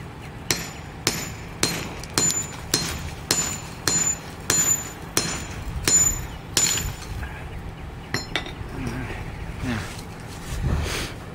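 A thin knife strikes repeatedly into 4 inches of stone-aggregate concrete, giving about a dozen sharp, evenly spaced metallic chops with ringing clinks, followed by quieter scraping and a voice speaking.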